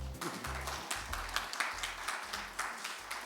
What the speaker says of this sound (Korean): 제4회 슬로푸드 미각교육 전국 워크숍 여러분의 큰 박수와 함께 시작하겠습니다.